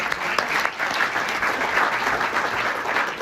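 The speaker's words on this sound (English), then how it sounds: "So a special round of applause" Sustained applause from an audience, a dense steady patter of clapping that fills the whole stretch without pause.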